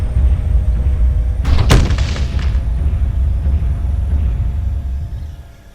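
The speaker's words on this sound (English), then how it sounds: "The Demolisher trading fire with Antares." Weapons fire from mechs in the MechWarrior Living Legends game, with a Demolisher trading shots with an Antares: one loud, sharp boom near the middle, trailing into a rumbling decay over a steady low drone of combat.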